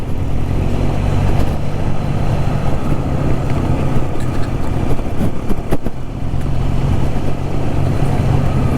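A Triumph motorcycle jolts along a rough gravel road, its engine droning loudly and steadily under a dense wash of road rumble, rattling and wind buffeting, with no talking.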